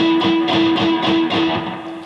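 Rhythmic percussive strums on muted guitar strings, short choppy scratches repeating steadily with a faint pitched hum underneath.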